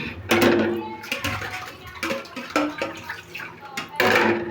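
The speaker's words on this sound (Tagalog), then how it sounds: "Yung gripo namin ito." Water splashes from a tap in a simple outdoor washing area without tiles, running in uneven bursts close by while a person talks over it.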